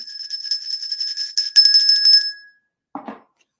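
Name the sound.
notification bell sound effect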